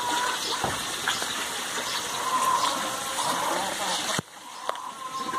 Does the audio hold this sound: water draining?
yes